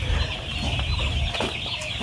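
Colour bird chickens, eleven days old, cluck softly in a poultry farm shed, a continuous murmur of many birds under a steady background hum.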